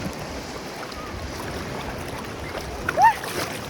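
Sea waves wash along a beach in a small bay, a constant nearby rushing of water and surf with a brief splash near the end and a faint voice in the background.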